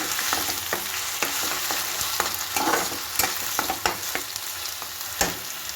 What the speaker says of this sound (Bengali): ভালো করে ফ্রাই হতে দেবো।